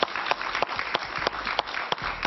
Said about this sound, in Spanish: Un aplauso para Maybord Petit.